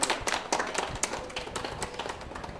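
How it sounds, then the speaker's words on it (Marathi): Rhythmic clapping from an audience at a college quiz event, applauding a second-prize winner from Lal Bahadur Shastri College, Satara, with close, uneven hand claps. "त्यांच्यासाठी जोरदार टाळ्या होत्या।"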